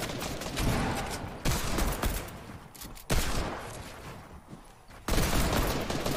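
Dense, loud gunfire in a Fortnite match, with overlapping volleys and explosive bursts at close range that swell and drop in waves over about six seconds, with no speech over it.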